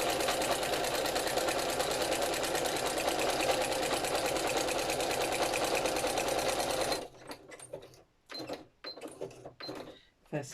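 A sewing machine runs steadily and loudly with a strange mechanical rattle for about seven seconds. It then stops, leaving faint intermittent clicks and handling noises.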